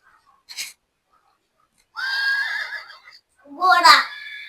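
A horse whinnies twice, a shorter neigh followed by a louder, shrill whinny that trails off, with a faint brief snort beforehand.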